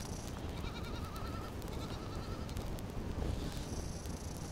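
Goat bleating in the survival game Survival Fountain of Youth, a wavering bleat early on and another faint call later, set against a steady ambient game soundscape.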